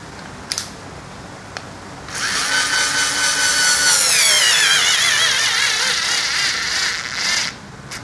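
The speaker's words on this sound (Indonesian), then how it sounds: "kita akan coba tanpa pre-drilling atau tanpa dilubangi kayunya ya. Apakah obeng ini mampu atau tidak?" An Ingco cordless screwdriver whines as it drives a screw into unpredrilled wood, a loud, close motor run of several seconds whose pitch sags under load before stopping, after a couple of faint clicks.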